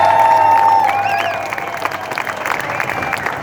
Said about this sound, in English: Can I hear from the nurses? Let's have a cheer.